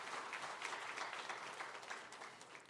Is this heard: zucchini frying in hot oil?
no